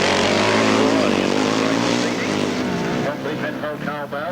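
Grasstrack racing sidecars from 1995 roar at full throttle, their engines loud and high-pitched as they wind up and sweep past, with a race commentator talking over the noise.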